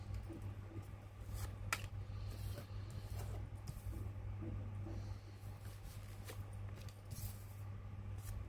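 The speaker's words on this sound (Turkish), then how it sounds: "ventilatörün sesi geliyor olabilir" An electric fan hums steadily and faintly in a quiet room, with a low constant drone and a few small clicks and scrapes.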